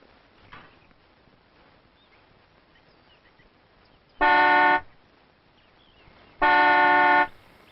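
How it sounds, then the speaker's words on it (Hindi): Two loud, sustained car horn blasts, each about half a second to a second long, separated by a short gap, over quiet background noise. "सर ये गाड़ी इतनी आवाज क्यों कर रही है?"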